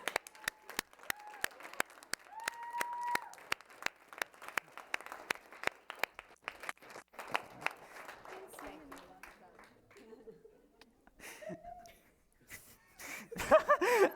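An audience claps in scattered applause that stays faint, its claps thinning out over time, while a voice speaks over it and a few louder claps break through near the end.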